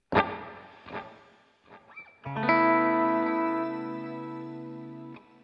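A few plucked guitar notes through a NUX Mighty Plug Pro MP-3, then a sustained chord ringing out with lush reverb, trailing delay echoes and a shimmering, chorus-like sparkle that slowly fades.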